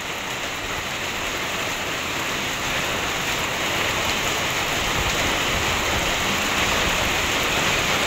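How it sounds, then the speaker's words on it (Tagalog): Heavy rain pours down steadily beside a creek where laundry is being rinsed, a dense, loud, continuous hiss of drops with no pause and no talk. "Malakas-lakas din po."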